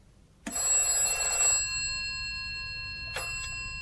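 A telephone bell rings in a quiet office, a loud sustained metallic trill that fades out, then a second, shorter ring follows about three seconds later.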